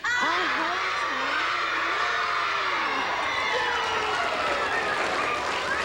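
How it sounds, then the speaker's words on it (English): First and second graders at an elementary school cheer and shout together, a loud, sustained crowd of high children's voices with rising and falling squeals. "a lot of kids were cheering"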